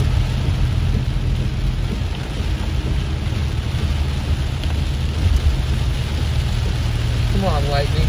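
Heavy rain shower during a major storm around Big Bear, California, heard from inside a car, a steady dense wash of rain drumming on the roof and windshield with a low rumbling bed, constant and loud throughout.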